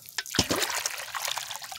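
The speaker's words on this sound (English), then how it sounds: "Got some fresh water down here though, and I need to fill my bird bath" Fresh water pouring into an outdoor bird bath, a splashy gush with a few gurgling bursts at the start, settling into a continuous close trickle and patter.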